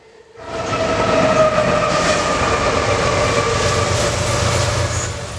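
A BNSF-led freight train with distributed power units rumbles past close by on a curve in North Louisiana, a loud steady roar of rolling cars with metallic wheel whine, fading slightly at the end.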